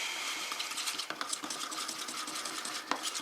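A stirring stick mixes red-dyed resin in a cup, giving faint, continuous scraping and light tapping against the container, close and alone.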